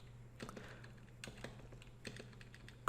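Fast, light clicking of a computer keyboard in quick irregular bursts, faint and close, with no voices.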